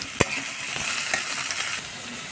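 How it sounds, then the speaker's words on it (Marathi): Chopped onion sautés in a pan for rava upma, a soft continuous sizzle with two sharp clinks of a spoon against the pan as it is stirred. "कांदा पण टाकून घ्यायचा आपल्याला आणि हे सर्व चांगलं आता परतून घ्यायचे"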